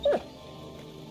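Mutt, a dog in the video game Kingdom Come: Deliverance 2, lets out a single short, high whimper or yip, close and brief, followed by quiet.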